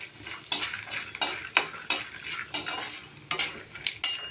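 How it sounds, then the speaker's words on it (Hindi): Peanuts are stirred in a pan with fresh curry leaves and dried red chilli for lemon rice, giving repeated scraping strokes of a spoon against the metal over a steady soft sizzle, close and fairly loud. "और अब हम इसमें डालेंगे मूंगफली के दाने, इसे अच्छे से भून लेंगे।"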